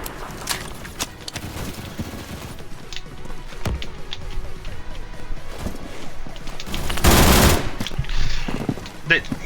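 Video game shoot-off with rapid automatic gunfire bursts and scattered single shots, building to a loud, dense volley near the end.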